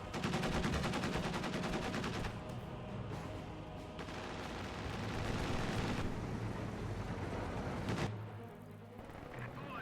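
A dense, continuous volley of small-arms fire with incendiary rounds in the World War II strategy game Company of Heroes 2, rattling without pause with heavier bursts and booms mixed through it.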